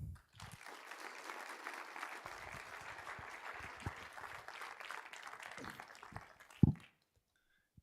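An audience claps steadily in welcome for South Dakota governor Larry Rhoden at a home building lab announcement, a sustained even round of applause that ends with a sharp thump and then silence.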